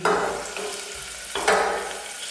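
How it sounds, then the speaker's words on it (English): Chili frying in a small pot gives a soft crackling hiss with a couple of louder bursts of sizzle as it's stirred, close by, no voices. "so now I'm frying chili."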